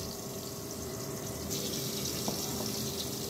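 A small amount of water poured into a potato and soybean mixture for aloo soyabean mashed curry, a steady close trickle with a faint splashy rush, running continuously without speech.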